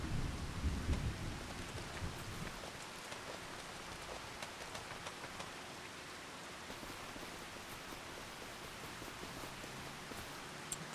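Steady rain pours down in Farming Simulator 25 on the Iowa Plains View map, with a low rumble of thunder rolling in near the start before the dense hiss of rainfall carries on alone.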